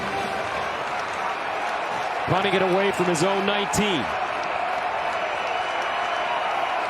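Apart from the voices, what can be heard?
stadium crowd cheering at Michigan at Iowa football game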